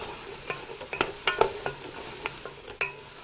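Sliced mushrooms sizzle in a flour roux in a pan, with a soft steady fry under scattered clicks and scrapes of stirring, fairly faint and close.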